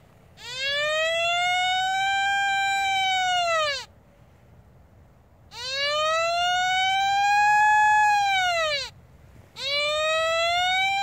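A loud electronic tone from an XP ORX wireless gold metal detector over a large target rises and holds in long sustained pulses, each lasting several seconds, separated by short gaps, with a steady low hum underneath.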